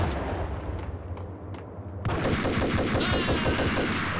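A rocket launcher fired in the video game Max Payne, a sudden loud blast halfway through that breaks a quieter stretch and leaves rapid rattling bursts and crackling trailing after it.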